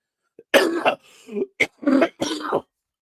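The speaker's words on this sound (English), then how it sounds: "she sent me into a coughing fit here" A person coughs repeatedly in a rough fit, several harsh hacking bursts with throat clearing, close and alone.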